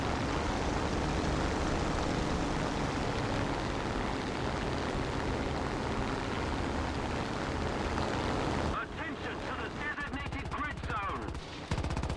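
In War Thunder, aircraft engines drone loudly and continuously, with bursts of machine-gun fire throughout, and the noise thins abruptly near the end.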